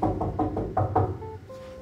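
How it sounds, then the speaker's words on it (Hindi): Someone knocks on a door at 3 a.m. after being locked out, a run of about six heavy knocks in quick succession followed by a short faint tone. "15 मिनट से दरवाजा खड़का रहे हैं"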